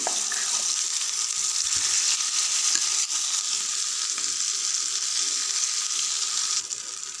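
Ground tomato chutney sizzles steadily in a pan over a tempering with curry leaves, a bright, even crackle that holds close and continuous throughout.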